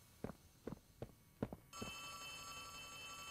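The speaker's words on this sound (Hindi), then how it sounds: "फोन आ रहा है भाई इधर." Footsteps thud several times before an old-style telephone bell begins ringing continuously in Poppy Playtime Chapter 3, a bright, sustained metallic ring that holds steady to the end.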